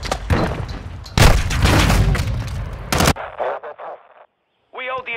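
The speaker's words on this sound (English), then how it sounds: "Taking effective fire." Rapid gunfire and explosive booms from a Call of Duty Domination match fill the first three seconds, loud and dense, followed by clipped radio-style voice callouts and a brief silence.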